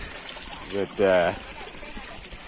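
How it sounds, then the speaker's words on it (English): A faucet left running at an off-grid place in Colombia gives a steady, even trickling hiss throughout, with a brief burst of a man's speech in the middle. "We got running water. No need to turn off the faucet."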